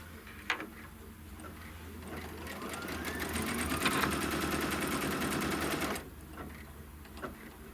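A sewing machine runs a quilt block's trim-line stitch for a few seconds, a fast, even mechanical rattle that starts and stops abruptly, with light clicks of handling before and after.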